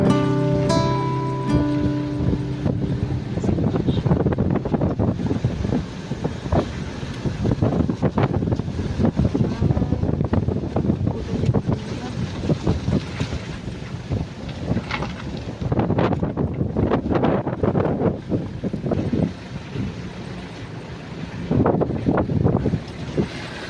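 Strong typhoon wind sweeps over a banana plantation, roaring and buffeting the microphone in loud continuous gusts for the whole stretch, with no one talking.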